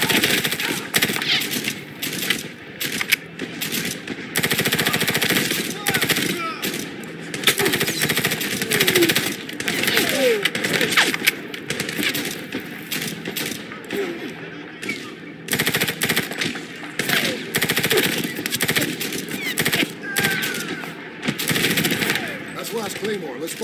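Dense bursts of automatic rifle fire rattle almost without pause in a Medal of Honor PC combat firefight, loud and close, with brief gaps between volleys.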